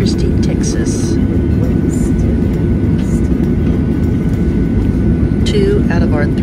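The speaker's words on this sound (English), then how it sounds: "Flight 1 of 4, departing out of Corpus Christi, Texas." Steady, loud broadband roar of an airliner cabin during a flight departing Corpus Christi, Texas, a constant low engine and air rush throughout, with faint voices and a few brief higher sounds near the end.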